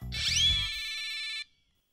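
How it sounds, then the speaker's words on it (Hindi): A phone in a TV sitcom scene gives a single electronic ring, a bright synthetic tone held for over a second that then cuts off into silence. "लगता है तेरे भरा जी का फोन आ गया सुलह करने वास्ते"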